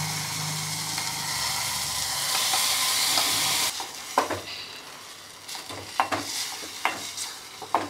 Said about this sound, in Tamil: கொஞ்சம் கடுகு போட்டுட்டு, கொஞ்சம் உளுந்த பருப்பு, கொஞ்சம் கடலை பருப்பு, கருவேப்பிலை போட்டு, ஒரே ஒரு காஞ்ச மிளகாய் ரெண்டாக கட் பண்ணி போட்டு